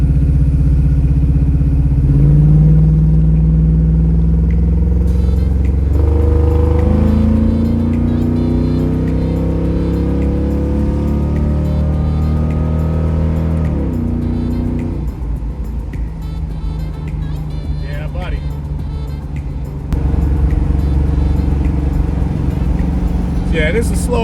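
Car engine revving up through a downshift and climbing in pitch, loud and close, with a voice talking over the engine noise.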